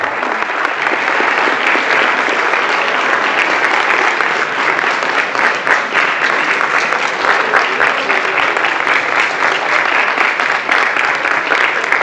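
An audience in a lecture hall at a medical college guest talk breaks into loud, sustained applause, with dense continuous clapping that holds steady for about twelve seconds.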